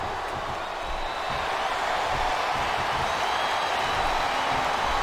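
Capacity crowd in a WWE SmackDown vs Raw 2007 wrestling arena, a dense continuous roar of distant voices holding steady and swelling slightly, without any clear applause bursts.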